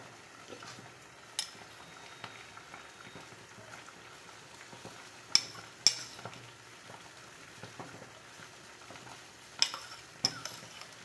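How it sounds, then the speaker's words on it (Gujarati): Corn kernels added to a frying pan of spiced vegetable masala and stirred: quiet, steady frying hiss with occasional sharp spoon taps against the pan, no voices. "તો હવે હું એમાં મકાઈ નાખી દઈશ."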